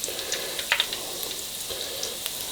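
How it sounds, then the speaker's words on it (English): Steady, fairly quiet frying sizzle from peanut butter-coated bread crisping in hot oil, with small scattered pops and crackles over a continuous hiss. "So we just basically want to make all the sides crispy, get that coating fried towards like a good piece of chicken."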